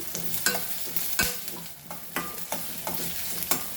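Doyi bhaji, a green leaf vegetable, frying in a pan, with a continuous sizzle and a regular rhythm of loud, close scraping stirs roughly every half second.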